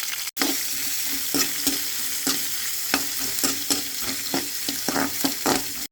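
Sliced onion, green chilli and curry leaves sauté in hot oil in a pan, a continuous dense sizzle broken by repeated scraping and stirring strokes, close and loud, with no voices.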